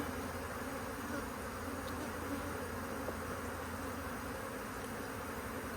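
Honey bees buzzing around an open hive in a bee yard, a dense, continuous, steady drone of many insects close by, with no talking.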